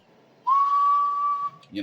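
A single steady tone whistled into the microphone of a Stryker 955 radio, held clearly for about a second and then cut off, followed by a brief burst of noise.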